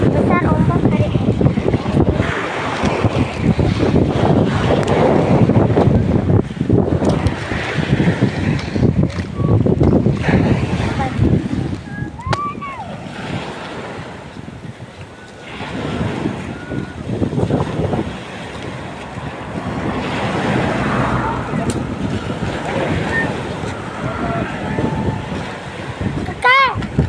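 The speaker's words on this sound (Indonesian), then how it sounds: "Besar ombak hari ini." Large ocean waves and strong wind surround a boat at sea, with heavy wind buffeting the microphone and surging, crashing water throughout, while people talk intermittently.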